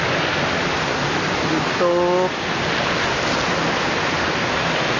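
Udaya Falls on Mount Apo pours down in a steady, dense broadband rush of falling water that stays constant throughout, with a brief voice speaking over it midway.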